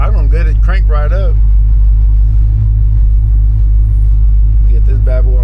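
A Chevrolet Monte Carlo fitted with long tube headers idles with a loud, deep, steady rumble close by, while someone talks over it at the start and end.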